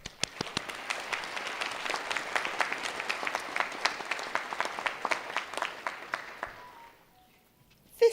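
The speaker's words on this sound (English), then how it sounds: "I think the graduates really need to give themselves a round of applause." Graduation ceremony audience applauding steadily for several seconds, a dense wash of many hands clapping that fades out near the end before a brief sharp sound.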